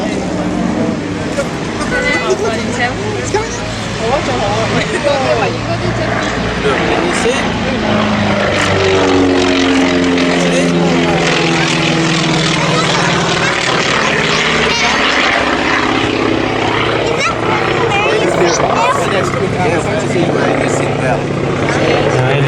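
A propeller aircraft, an A-26 bomber, flies past at the Wings Over Illawarra airshow, its loud engine drone rising and shifting in pitch as it passes, continuous throughout under a commentator's talk.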